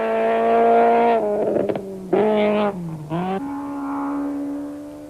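Rally cars race flat out on a 1991 mountain trail stage, engines revving hard through gear changes, loud and close, with brief dips and a sustained high drone as a car blasts past.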